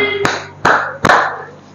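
Hands clap four times at a steady, evenly spaced rhythm, each clap sharp, close and loud, over a faint tonal background, as part of a Teachers Day thank-you clapping routine.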